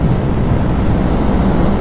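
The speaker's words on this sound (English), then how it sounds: "the sound of this exhaust is a lot better. And it's not loud." A vehicle's mildly loud aftermarket exhaust runs steadily at idle, close by, a dense low rumble with no talk over it.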